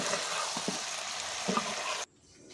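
Pumpkin greens fry in hot mustard oil with chillies, giving a bright, steady sizzle broken by a few soft stirring knocks, then cutting off abruptly near the end.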